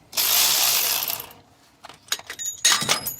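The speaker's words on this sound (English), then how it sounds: "I'm gonna be removing this idler here" A hand ratchet loosening the idler pulley bolt on a 2015 Toyota Sienna during water pump work: a bright burst of clicking, then sparse metallic ticks and a second quick ratcheting run, close up.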